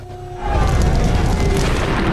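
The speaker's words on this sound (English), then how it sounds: "There was 1 million pounds of ammunition exploded, and it just raised the ship right up out of the water" A Pearl Harbor ship's ammunition magazine explodes, about a million pounds of ammunition blowing up: a sudden deep, heavy boom that swells and then rumbles on steadily, loud and dense, with no voices.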